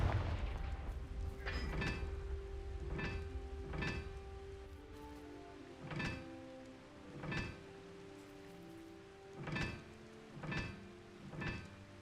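Confringo blasting spells in Hogwarts Legacy burst out as a run of sharp, booming impacts, about a dozen explosive hits in an irregular rhythm over a steady hum of game music.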